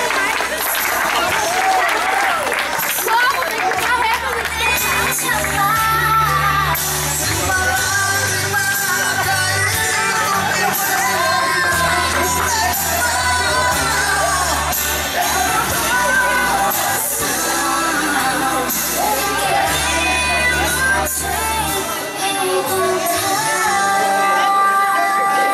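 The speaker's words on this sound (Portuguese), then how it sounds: "Uma gloriosa salva de palmas a descansar." Sustained applause and cheering from a crowd celebrating a couple at an evangelical cotton wedding anniversary party, loud and continuous with shouts, layered over music throughout.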